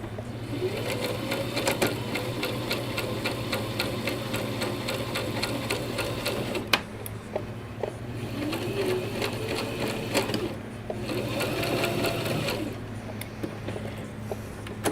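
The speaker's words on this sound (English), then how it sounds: "Okay, it is serged together." A serger stitches fabric pieces together for a Tony Tony Chopper costume, running in a steady close whirring buzz with a rapid mechanical rattle, pausing briefly and restarting, with no talk over it.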